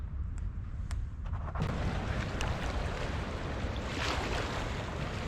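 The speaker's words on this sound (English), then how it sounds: "Oh, I just can't catch a break with this wind no matter where I go." Strong wind roars across an Adirondack lake on a canoe camping trip, a steady rushing gust with buffeting on the microphone and the wash of waves, loud and continuous with no talk.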